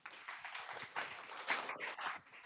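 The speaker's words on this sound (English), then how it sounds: "Let's join us in a round of applause." Audience applause at a Games for Change APAC gathering in Hong Kong, a steady broadband patter of many hands clapping for a couple of seconds, moderately loud and fairly even, with no talking over it.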